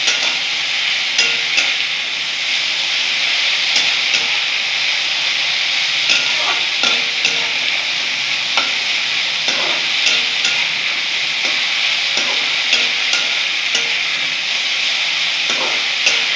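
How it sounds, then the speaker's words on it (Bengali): Grated green papaya sizzles steadily in an oily pan as it is stir-fried for a Bengali papaya ghonto, a constant loud hiss broken by occasional scraping of the spatula, with no voices. "একটু ভাজা ভাজা করে নেব।"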